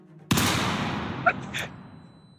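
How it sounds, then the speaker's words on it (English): A single sharp gunshot sound effect in an audio story, loud and close with an echoing tail, followed by a couple of fainter metallic clicks and noises in an otherwise quiet scene. "the sound of a gunshot echoed in our ears."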